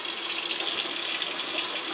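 Water runs steadily from a sink tap as an African grey parrot bathes beneath it, a close, even hiss with no pauses.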